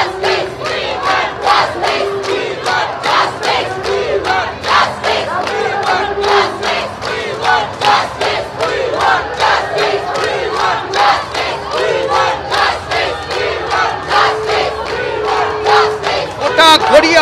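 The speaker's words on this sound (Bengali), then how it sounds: "তিলোত্তমা সবার বোন, এই মিছিলে সামিল হন, এটা যেমন এখানকার স্লোগান" A large protest march crowd chants slogans in a steady rhythmic call pattern, loud and close, with many voices pulsing together and repeating throughout.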